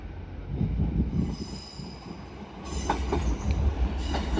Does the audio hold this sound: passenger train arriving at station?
yes